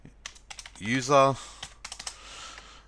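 Keys clatter on a computer keyboard while an HTML email is written, a voice speaking briefly in the middle and the taps continuing before and after it at a steady, close pace.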